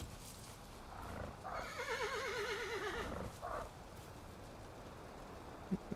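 A horse in the Valheim video game gives a wavering whinny of about two seconds, moderately loud against a quiet background, followed by a short snort and faint hoof taps.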